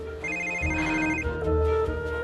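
A mobile phone left behind rings indoors, a steady electronic ringtone with repeating tonal beeps sounding alone at moderate loudness over a low room hum.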